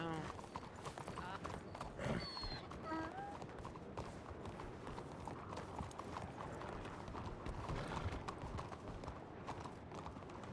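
Horse hooves clip-clopping in a ranch roleplay video game, a steady run of hoofbeats with a brief whinny, faint and under continuous talking.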